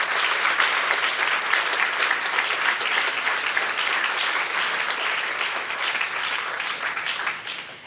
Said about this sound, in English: I guess we can clap again for this wonderful community